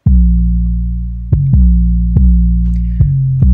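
Merged, EQ'd Spins 808 bass from GarageBand plays a run of sustained, booming notes. The deep, rounded tone changes pitch every second or so, with faint higher accents above it. Loud and close, no voices.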